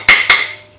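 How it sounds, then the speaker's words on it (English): Two sharp metallic knocks from a chipping hammer striking rusty exhaust parts on a 2001-2005 Honda Civic Si, close and ringing, with a short tinny decay after each hit. "I'm just going to hit this with a chip and hammer just to flake all that excess"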